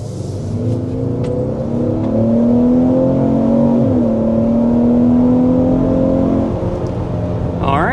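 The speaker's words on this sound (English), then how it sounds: "let's go ahead and start out with a hard acceleration" A 2026 Ford Explorer SUV engine revs up hard under heavy acceleration uphill to 60 mph, its pitch climbing steadily, dipping briefly at a gear change, then rising again.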